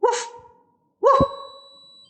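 An anti-bark dog collar gives two long, steady electronic beep tones with a harmonic buzz. The beeps are close and loud, separated by a short gap, and a lower sustained tone trails into the second.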